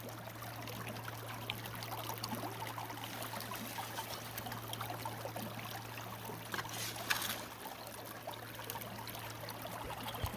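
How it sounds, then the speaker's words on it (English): Water rushes steadily through a gold sluice box at a creek, a continuous close wash and trickle with a low steady hum underneath and no talking. "Here's the first scoop into the sluice box."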